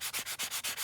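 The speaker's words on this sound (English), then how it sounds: "This is just a fine sanding block." A fine sanding block rubs back and forth along a paper edge in seven quick, evenly spaced strokes, close and moderately loud with no talk.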